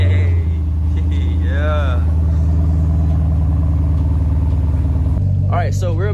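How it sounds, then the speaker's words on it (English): Chevrolet Camaro SS V8 firing up from cold: a loud, steady low engine rumble that runs throughout, with a brief revving rise near the end and bits of voice over it. "let's get that cold start real quick"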